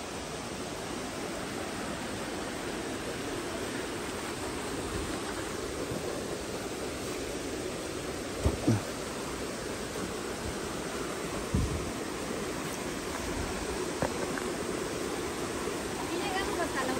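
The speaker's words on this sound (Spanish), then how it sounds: "Aquí llegamos hasta la orilla del río" River water rushes steadily at the riverbank, a broad, unbroken roar that stays loud and even, with a few faint knocks now and then.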